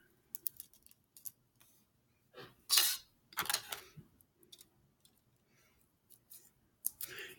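Scissors snip through cassette tape during a repair, giving several short, sharp cuts spread across the stretch with quiet pauses between them, close and fairly soft, with no one talking.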